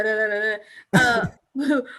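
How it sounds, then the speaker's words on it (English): A voice hums a tone, then gives a rough, gravelly throat-clearing rasp, followed by another short vocal sound. "let me clear my throat"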